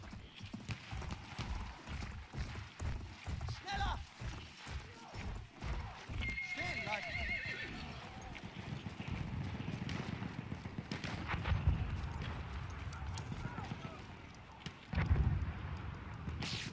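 In Battlefield 1, a horse's hooves clip-clop in a rapid, rhythmic gallop, and a high whinny sounds partway through, mixed with game noise, distant thuds and a voice speaking.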